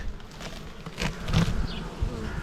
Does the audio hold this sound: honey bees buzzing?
yes